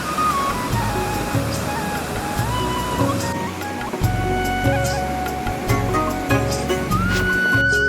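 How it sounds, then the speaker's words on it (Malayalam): Cold water pouring down over rocks at Kozhippara waterfall, a steady loud rush, with music playing over it throughout. "പാറക്കെട്ടുകൾക്കിടയിലൂടെ ഒഴുകിയിറങ്ങുന്ന ആ തണുത്ത വെള്ളം മനസ്സ് നിറയ്ക്കുന്ന കാഴ്ചയായിരുന്നു"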